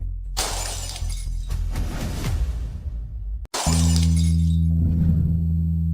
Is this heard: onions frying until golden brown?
no